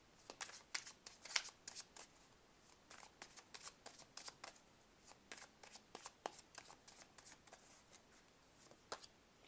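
Tarot cards are shuffled close by, giving repeated quick riffling and flicking bursts in an uneven rhythm, with no voices.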